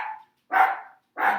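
Dogs bark in three loud, separate bursts evenly spaced about half a second apart, close by, with no talk.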